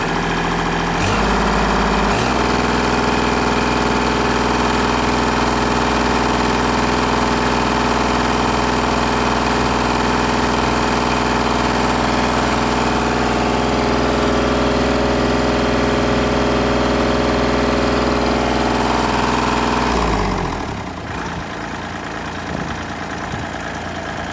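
A loud Kubota L2501 diesel tractor engine runs at high, steady revs for about twenty seconds, then drops abruptly to a lower idle.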